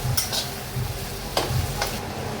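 Onion, tomato and green chillies fry in a pan with a soft sizzle, while a utensil gives a few brief stirring scrapes and taps close by.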